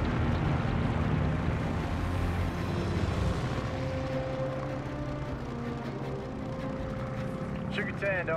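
Propeller aircraft engines drone steadily in a Battle of Midway campaign video game, a loud continuous roar filling the scene while voices talk over it.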